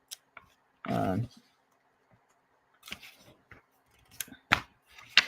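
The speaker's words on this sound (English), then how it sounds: "I was using my scissors all wrong. And now I know that you don't move, you move the paper." A few sharp snips of scissors cutting paper, spaced irregularly with quiet gaps, plus a brief rustle of handled paper near the start.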